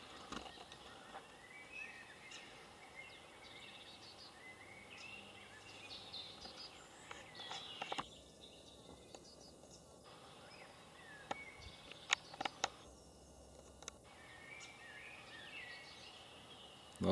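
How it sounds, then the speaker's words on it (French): Birds sing during a quiet hike through the Vosges mountains in Alsace, scattered chirps and calls at middling distance over a calm, faint outdoor background, with no talking. "On entend les oiseaux chanter."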